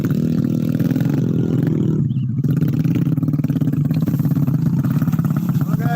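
Motorcycle engine running close by, a steady mid-pitched drone with rhythmic clatter, holding level with a brief dip partway through.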